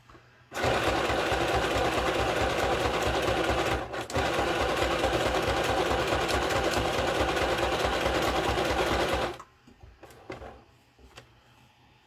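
Sewing machine stitching a zigzag, a loud, fast, even mechanical rattle that starts abruptly, pauses briefly near the middle, resumes, then cuts off, leaving quiet handling clicks.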